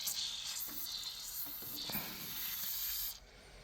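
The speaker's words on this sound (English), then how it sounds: "And I'm going to lube this chain." Motormaster chain lube sprayed onto the drive chain of a used Ariens 28 Deluxe SHO snowblower, a steady close hiss running nearly continuously for about three seconds before cutting off.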